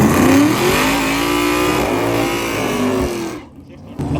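Chevrolet cars accelerate hard at a drag race, a loud revving engine roar rising in pitch over a few seconds under an announcer's continuous talk, then it drops away sharply near the end.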